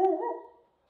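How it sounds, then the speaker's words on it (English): A dog barks once, a single loud, close bark that trails off into silence, with no talking around it. "Boomer has become a very good guard dog."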